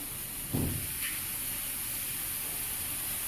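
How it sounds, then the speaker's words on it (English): Hot cooked broccoli doused in cold water gives a short, soft splash-and-hiss burst, followed by a faint steady hiss and background noise. "So I just drowned the broccoli in cold water to stop any further steaming dead."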